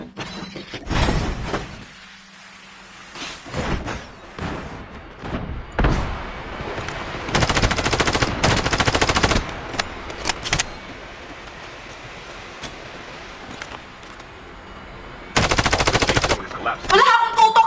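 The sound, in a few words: gunfire from a gun in Call of Duty video game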